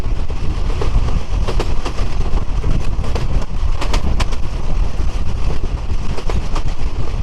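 A fast local train from Lalmonirhat to Burimari roars along the tracks, a loud steady rumble with rattling carriages and clacking wheels throughout, heard from inside; no talking.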